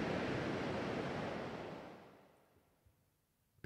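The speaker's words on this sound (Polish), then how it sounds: "Możesz usłyszysz szum fal oceanu." Ocean waves wash in as a broad rushing surge that fades away into near quiet, followed by a few faint soft knocks.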